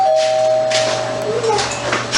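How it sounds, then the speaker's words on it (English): A doorbell chimes once near the start, a clear ringing tone over a low steady hum, followed by faint indistinct voices. "Oh, the doorbell rings."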